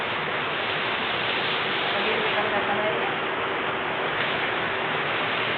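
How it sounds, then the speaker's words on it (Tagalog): Heavy rain pours down at a wedding, a dense, constant hiss that stays even and unbroken throughout. "Maulan, malakas ang ulan."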